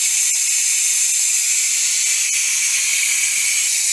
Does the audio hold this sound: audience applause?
no